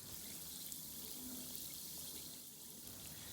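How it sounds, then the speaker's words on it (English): A homemade bath bomb of bicarbonate soda and citric acid fizzes in water, a steady soft hiss and crackle that stays faint and continuous with no voices. "The fizzing's because the bicarbonate soda and the citric acid are reacting together in water"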